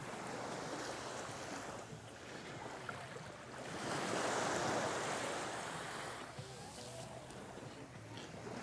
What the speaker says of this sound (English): look at this beach here, it's very, very nice